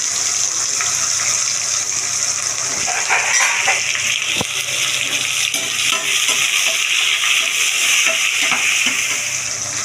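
Onions frying in a pan for a Sunday chicken biryani, a steady close sizzle and bubbling hiss running throughout with occasional small clicks of stirring, no talking.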